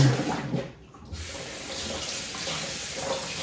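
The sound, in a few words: rinsing turkey legs under a running tap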